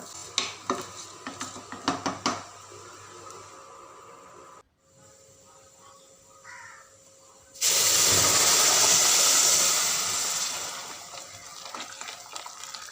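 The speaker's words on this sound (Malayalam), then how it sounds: "പിന്നെ അതിലേക്ക് നമ്മൾ ഒഴിച്ചു കൊടുക്കുന്നത് തിളച്ച വെള്ളമാണ്" Boiling water poured into a hot cooking pan: a few metal clinks and a quiet pause, then a sudden loud, steady sizzling hiss that holds for several seconds before slowly fading.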